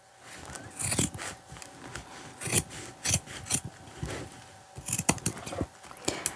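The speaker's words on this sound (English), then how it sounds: "I'm going to trim it as close as I can all the way up so I see my zipper" Scissors cutting denim jeans close to the zipper, a series of short rasping snips at an irregular rhythm, near and moderately loud with no voices.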